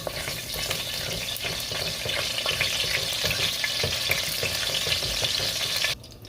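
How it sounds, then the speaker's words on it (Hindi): Cumin seeds sputtering in hot oil in a pan for a ridge gourd sabzi, a dense, even crackling sizzle held steady and close for several seconds before cutting off abruptly. "अब मैं यहाँ पे क्यूमिन सीड्स ऐड कर दूंगी। और इनको 1 से 2 मिनट के लिए पका लूंगी।"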